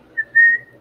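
A single person whistles a short tune phrase up close: a brief note, then a longer sustained one, clear and alone over faint background.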